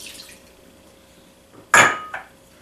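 White wine poured into apricot preserves for a pork chop glaze: a sudden splashing pour with clinking, then a short second splash, following near silence.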